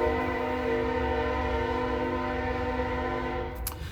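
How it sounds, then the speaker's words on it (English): A passing train sounds its horn in one long, steady, loud multi-tone blast with a rumbling low end, holding for about three and a half seconds before cutting off abruptly. "a train is going by,"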